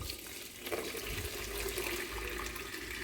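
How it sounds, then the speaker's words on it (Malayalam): Excess water drains from a pot of cooked rice, a steady close rushing pour of water that runs continuously for about three seconds with no talk. "ആദ്യം നമ്മൾ അധികമുള്ള വെള്ളമൊക്കെ കളയണം കേട്ടോ."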